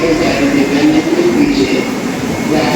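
Train noise at a large Delhi railway station platform: a steady, loud rumble and hum of rail cars, with continuous station din and some voices mixed in throughout.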